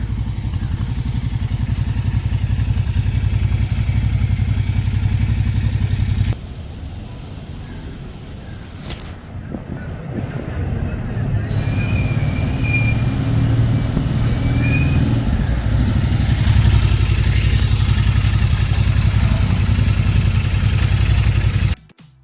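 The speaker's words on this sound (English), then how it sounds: "Shahrukh is going to take a test ride." A Royal Enfield Continental GT 650 motorcycle fitted with auxiliary lights runs with a loud, steady engine drone nearby. It drops briefly, then rises again as the bike pulls away, before cutting off at the end.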